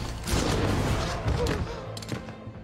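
Gunfire in an action film scene set during a brutal raid on a mafia headquarters, a dense burst of rapid shots and booms layered over a low rumble before fading out near the end.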